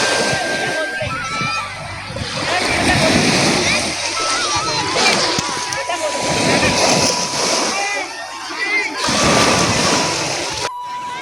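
Sea waves at Marine Drive in Mumbai splash and surge in loud rolling bursts against the shore at night, heard under a busy crowd and nearby voices talking.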